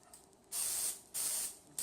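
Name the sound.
cooking spray on cupcake pan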